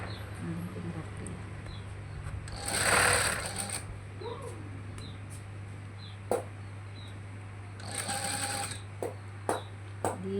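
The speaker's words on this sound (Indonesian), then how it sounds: "Dijahit pelan-pelan saja teman-teman, yang penting rapi." A sewing machine stitches a sleeve cuff slowly, its low steady motor hum running underneath, with short bursts of louder stitching and faint clicks; nobody speaks.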